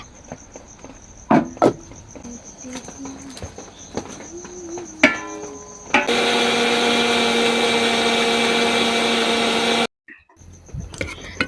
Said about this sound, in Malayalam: ഞാൻ ചൂടാറി കഴിഞ്ഞതിന് ശേഷം നമ്മുടെ മിക്സിൻ്റെ ജാറിലിട്ടിട്ട് വെള്ളം ഒഴിച്ചിട്ട് അരച്ചെടുക്കട്ടെ